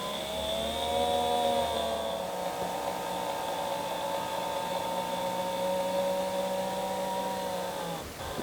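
A motorised spear valve on an off-grid four-nozzle micro hydro turbine winds closed, its steady electric motor whine running continuously over rushing water noise, slightly shifting in tone before stopping near the end.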